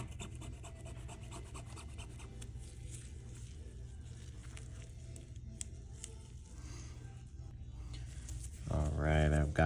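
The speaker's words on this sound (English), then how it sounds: "you just scrape all this off all the way around with maybe like a tweezers would work fine" Tweezers scraping leftover adhesive from the screen edge of an iPhone 11 Pro Max, a quiet close rasping rub running steadily with small scratchy accents, then a louder burst near the end.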